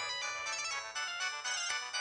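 A phone ringtone plays as a bright, sustained melodic tone, steady and fairly loud for about two seconds, alone without speech.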